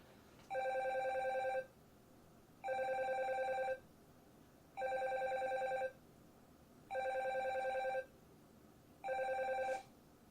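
A telephone rings five times in even bursts of about one second, each separated by a short pause. The ringing is moderately quiet and clear, with no voices.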